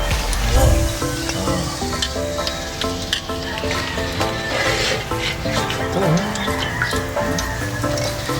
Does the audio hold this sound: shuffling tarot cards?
no